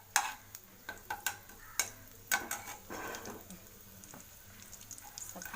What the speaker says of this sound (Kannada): ಚಾಪ್ ಮಾಡಿ ಹಾಕ್ಕೊಂಡು ನೆಕ್ಸ್ಟ್ ಸ್ವಲ್ಪ ಅದು ಹಸಿ ವಾಸನೆ ಹೋಗಬೇಕು, ಅಲ್ಲಿವರೆಗೂ ಫ್ರೈ ಮಾಡ್ತೀನಿ